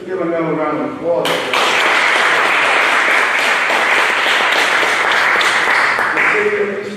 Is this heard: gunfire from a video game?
no